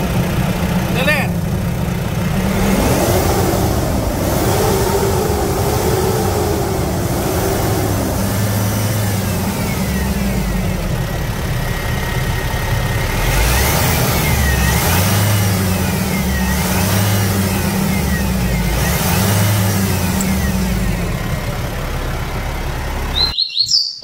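A 2017 Nissan Frontier 2.3 pickup engine revs up and accelerates in repeated rising and falling surges, loud and close, with people talking over it and birds chirping in the background.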